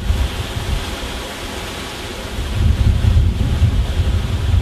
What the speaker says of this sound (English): oh man, that gust is so uh, so strong there. It almost blew over my camera.